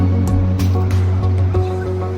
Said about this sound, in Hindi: देख सकते हैं वहाँ से ऊपर वाटरफॉल वहाँ से फ्लो होके आ रहा है